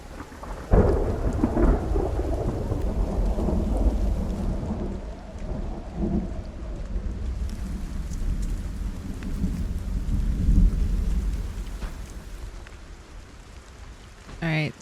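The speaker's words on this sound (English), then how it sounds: "All I can hear is the thunder and the wind." A thunderstorm with deep rolling thunder rumbling continuously over steady wind and rain, loud and sustained throughout.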